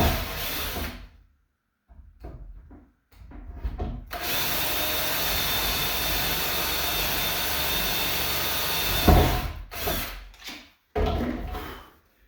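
A power drill whirs loudly in long bursts, boring holes in wood for a bed frame, with short pauses between runs and a sustained stretch in the middle.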